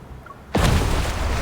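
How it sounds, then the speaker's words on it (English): A small explosion in the video game Love and Deepspace: a sudden close boom breaks a quiet moment, followed by a sustained loud rumbling roar. "All of a sudden, there's a small explosion nearby."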